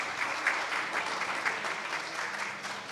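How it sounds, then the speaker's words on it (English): An audience at an Alexandria public safety forum breaks into applause for the event's sponsors, a dense, even wash of clapping that holds at a steady level and tapers slightly toward the end, with no one speaking. "So how about a round of applause for all of our sponsors?"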